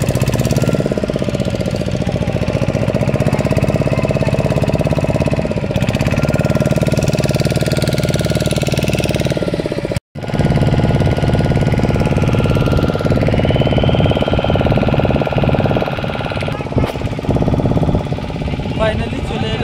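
A motor boat engine drones loudly and continuously as the boat pulls away from shore for a crossing, with one brief break partway through before the rough, knocking hum resumes.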